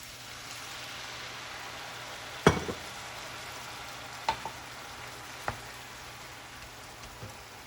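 Wine simmers with browned wild mushrooms in a pan, giving a soft, steady bubbling sizzle, quiet and close, broken by a few sharp clinks and knocks of utensils against the pan.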